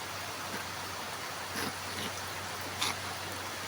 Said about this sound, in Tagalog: hindi kami makagawa eh maulan eh